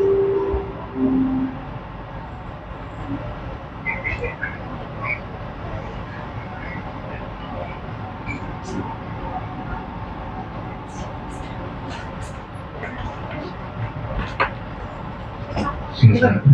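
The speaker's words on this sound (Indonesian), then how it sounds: "Argo Lawu train will depart from Solo Balapan to Gambir, which is the final station." Argo Lawu passenger train at Solo Balapan station heading for Gambir, a steady low rumble of the train and station ambience under continuous voices of a platform announcement, with brief high tonal blips and a louder burst near the end.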